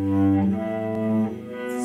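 Tense, strained cello bowing yields a thin, ghostly tone: sustained low bowed notes with a wavering, slightly choked quality, played alone at close range, changing pitch once partway through.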